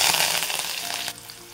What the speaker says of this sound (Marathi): कांदे टाकून घेते.